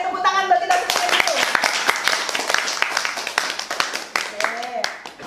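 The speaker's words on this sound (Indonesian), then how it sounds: "tepuk tangan buat kita semua dulu" A classroom group claps together in brisk, dense applause that runs for several seconds, with voices and harmonic speech-like sounds over the start and end.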